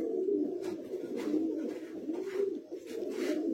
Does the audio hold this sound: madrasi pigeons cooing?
yes